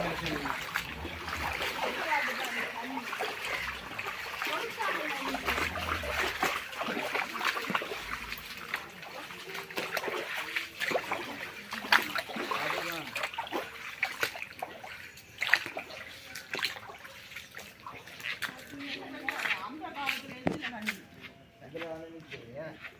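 Heavy rain pours with continuous splashing water. A voice talks over it on and off.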